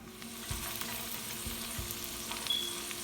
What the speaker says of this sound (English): and then I just fry this, and beautiful soft nuggets will be there